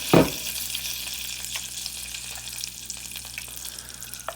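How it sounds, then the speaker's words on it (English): Bacon sizzles and crackles in its own grease in a pot on a stovetop, a steady close frying hiss with scattered pops, opening with a brief louder clatter, no talking. "that bacon's starting to look a little bit crispy. We got some bacon grease in there"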